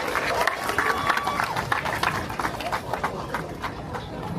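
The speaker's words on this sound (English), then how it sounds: "keep the applause going as Minister comes to the stage" Applause from an audience at an International Women's Day walk event as the Minister of Labor and Manpower Planning walks to the stage, a steady dense patter of clapping mixed with crowd murmur and a faint background voice.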